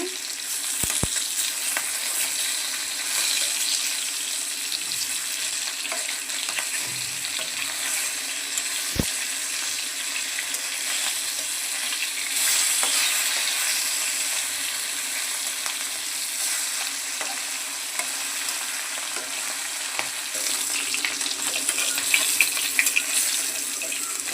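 Fish fry in a pan of hot oil for a Bengali home-cooked meal, giving a steady, close, even sizzle that runs throughout, broken by a few brief clinks of a utensil.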